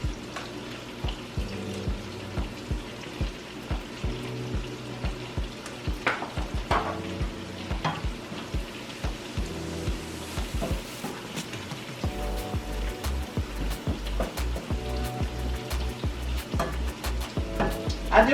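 Squash frying in a hot frying pan for a Southern squash casserole, with steady sizzling and scattered clicks and scrapes of stirring, fairly close and continuous with no talking.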